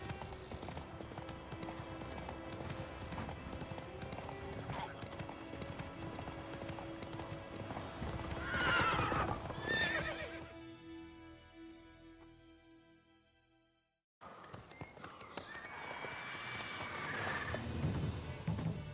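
A horse gallops with rapid, rhythmic hoofbeats and gives a loud neigh partway through in The Witcher 3 video game; the sound fades out near the middle, then the galloping resumes after a brief silence.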